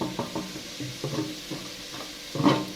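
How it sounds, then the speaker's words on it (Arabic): Chicken liver with salt and other ingredients being stirred in a pot, a spoon scraping and knocking against the sides in repeated, irregular strokes over a faint sizzle, close by with no talking. "وهنقلب كل المكونات بتاعتنا دي"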